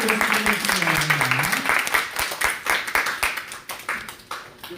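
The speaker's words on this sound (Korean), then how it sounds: "박수로 더 크게 박수로 주시겠습니다" A church youth congregation applauds at the close of a high school worship service. Dense clapping rises loud and near over a lingering sung or spoken tone, then thins into separate claps toward the end.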